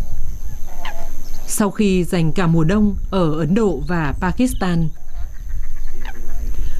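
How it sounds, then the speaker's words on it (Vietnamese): Demoiselle cranes call from the Dornod steppe in a run of loud, honking, bugle-like cries, repeated several times in close succession, with someone narrating over and around them. "Sếu khuê tú là loài chim di trú tới thảo nguyên Đo Nót."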